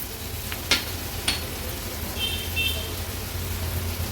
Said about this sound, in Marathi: आता व्यवस्थित ह्या सर्व वस्तू आपल्याला परतून घ्यायच्या आहेत